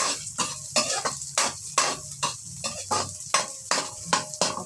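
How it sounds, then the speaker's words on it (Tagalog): Garlic and onion sauté in a pan, cooking for a petchay and sardines dish. A soft sizzle runs underneath steady, rhythmic stirring scrapes from a utensil against the pan, close and fairly loud. "Lagyan natin ang bawang. Nauna ko yung sibuyas kasi madaling masunog ang bawang."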